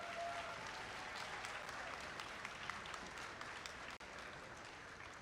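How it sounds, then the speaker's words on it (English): An audience applauds volunteers at a robotics district competition event, a dense, even wash of clapping that holds steady throughout, heard from some distance in a large hall. "Please give them a huge round of applause."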